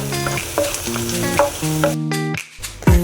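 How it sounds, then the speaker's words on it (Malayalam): Onion sautéing in hot butter in a pan for paneer butter masala: a close, continuous sizzle with stirring scrapes, dropping briefly near the end before the frying resumes, with faint tonal background music. "ഒരു പാൻ എടുത്തിട്ട് ബട്ടർ ഒഴിച്ച് ചൂടായിട്ട് സബോള എടുത്ത് വഴറ്റാം"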